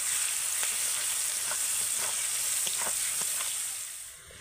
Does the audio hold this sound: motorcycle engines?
no